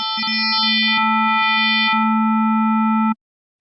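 Synthesized steady tone on a 220 Hz note with a stacked harmonic series including the fifth partial, from an FM synthesis lesson; a few brief chirpy blips early on, then a clean sustained drone that cuts off abruptly after about three seconds.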